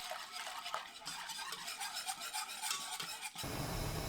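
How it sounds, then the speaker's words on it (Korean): Glutinous rice flour being whisked into kelp broth in a pot, soft rapid rasping and swishing of the utensil against the bottom, quiet and close, ending abruptly in a low rumble. "찹쌀가루 듬뿍 1큰술, 다시마 우린물 400ml 넣고 가루를 풀어주세요."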